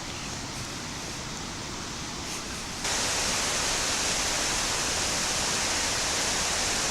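A swollen creek at Whatcom Falls rushes after heavy rain, a steady broadband roar of water that grows noticeably louder partway through, close and continuous with no talking.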